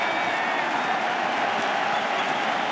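A packed baseball stadium crowd at a World Series game between the Cardinals and the Red Sox roars continuously and loudly, forming a dense, unbroken wall of cheering.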